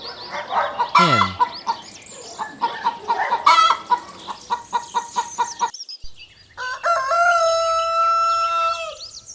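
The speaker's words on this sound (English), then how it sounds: "Hen." A hen clucks in loud, rhythmic bursts, close and repeated, followed by a sustained crowing call at the end.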